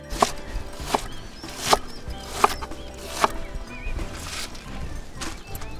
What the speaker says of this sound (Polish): a ja zajmę się krojeniem kapusty